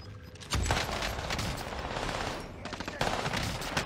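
Bursts of rapid gunfire in a rooftop shooter video game, a sharp volley starting about half a second in and another near the end, fairly close, with players talking in Italian underneath.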